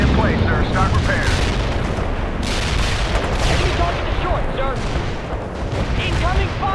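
Incoming gunfire and explosions in the World in Conflict video game during the battle for Pine Valley, a dense, continuous barrage of booms and shots with shouted radio voices talking over the din.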